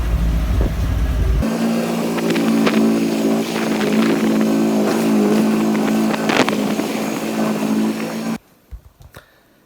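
A motorboat engine starts and revs during a boat licence practice session, with a loud sustained hum and rising throttle bursts that then cut off abruptly to near silence.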